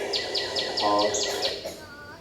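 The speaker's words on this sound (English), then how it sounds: "Somebody said, well, that's a bird." A recorded bird call, a series of rapid repeated chirps in a quick regular rhythm, moderately loud, with a brief lower warbling note partway through and faint background hiss.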